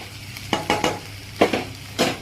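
Potatoes sauté in a pan for a fry dish while a spoon stirs them, making several short scraping strokes over a soft, steady sizzle, close and fairly clear.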